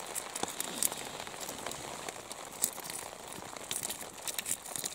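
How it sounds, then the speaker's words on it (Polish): Steady rain patters through forest foliage at night, a dense crackle of drops with occasional louder taps, heard close and with no voices. "Mam nadzieję, że uchwycą się dźwięki deszczu"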